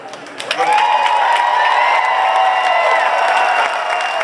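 A crowd at a Boston Marathon after party at the House of Blues breaks into loud, sustained applause and cheering for the runners, swelling quickly and holding steady, with whistles and a ringing tone above the clapping.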